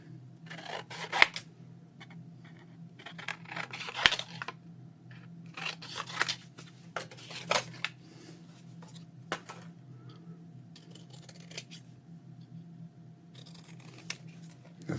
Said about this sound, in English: So now I just got to trim these out.